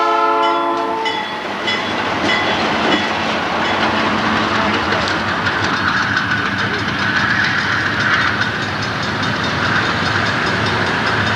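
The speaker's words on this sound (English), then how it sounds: "We've got another westbound coming around the trailer train." A westbound freight train passes on a VHS recording, opening with a loud horn blast and then a dense, continuous roar of wheels and cars rolling by close up.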